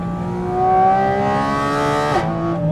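A Porsche GT4 RS engine revs high with a smooth, rising howl that peaks and then drops sharply as the throttle closes, close and clear.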